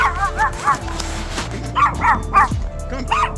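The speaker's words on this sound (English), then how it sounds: "I think that's the neighbor's dog." A neighbor's dog barks repeatedly nearby in short yipping, slightly whimpering bursts, while a person speaks softly in between.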